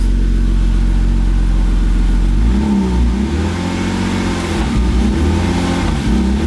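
BMW E36 with a swapped-in manual gearbox pulling away in first gear: a steady mid-pitched engine idle gives way to a loud, rising engine note as the car moves off, close by and with no talk.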